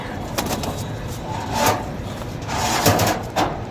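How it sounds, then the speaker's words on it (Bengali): Pigeons coo close by with short bursts of fluttering wings as the birds take off, over a steady background hum. "এই যে কবুতরগুলি ছাড়া হইতেছে"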